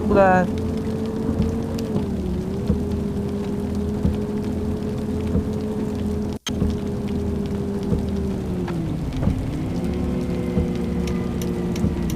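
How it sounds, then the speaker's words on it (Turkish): Steady rain patter hisses over a droning bus engine hum in a bus driving game, shifting pitch now and then, with a brief dropout midway. "Aha yağmur başladı la."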